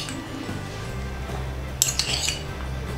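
A spoon stirs chopped fruits into cooled custard in a bowl, giving soft wet squishing with a few light clinks of metal against the dish near the end, close and fairly quiet.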